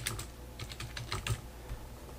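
Typing text on a computer keyboard while working on OpenOffice text boxes: quick, irregular key clicks in a soft close-up patter over a faint low hum, with no talking.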